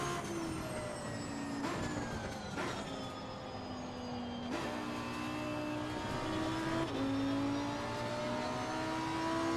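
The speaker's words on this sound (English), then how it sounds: "You can hear the difference between the Lamborghini and the Boxster engine of that Porsche." Roaring race car engines, a Lamborghini and a Porsche in Assetto Corsa Competizione, rev up and shift through gears, loud and continuous, with pitch climbing and dropping as the cars accelerate.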